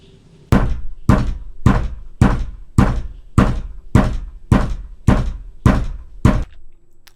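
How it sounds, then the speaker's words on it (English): Ten heavy, evenly spaced thuds of a fist banging on a bedroom door, loud and close, each booming knock ringing briefly before the next in a steady rhythm. "Now she's banging on the door"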